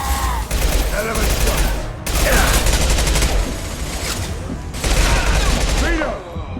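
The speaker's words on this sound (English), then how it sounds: "Firing an impact shot!" Repeated heavy gunfire bursts from impact shots in the video game Mass Effect 2, loud and dense with booming blasts across the span amid battle noise and some voices.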